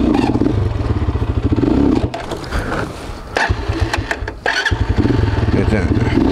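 A small motocross motorcycle, a Honda CR80 or Lifan 200, is kicked over and fires up with loud, close, rapid two-stroke-style popping that cuts out briefly before restarting.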